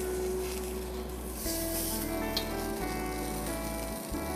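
Sea bass with rosemary fries in hot oil in a pan, giving a steady, close sizzle with a low hum underneath that holds without a break.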